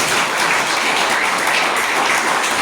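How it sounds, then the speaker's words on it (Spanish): Church congregation breaks into sustained, dense applause filling the room, steady and fairly loud throughout with no talk over it. "¿Cuánto dan un aplauso a Jesucristo?"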